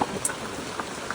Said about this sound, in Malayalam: മഴ ചെറുതായിട്ട് പെയ്യുന്നുണ്ട്